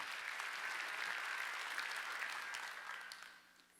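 A church congregation applauds during a Sunday worship service, a dense steady clapping that fills the room and then tapers off toward the end, with no voices heard.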